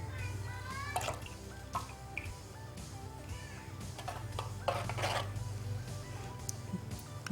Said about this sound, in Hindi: आहिस्ता आहिस्ता करके थोड़ा थोड़ा करके नींबू का रस डालेंगे।